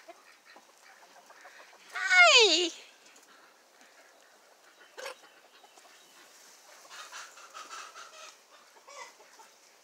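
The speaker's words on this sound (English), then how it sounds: "This is a little rooster." A little rooster on a farm gives a loud, short burst of rising clucking calls, followed by quieter scattered sounds and a person speaking nearby.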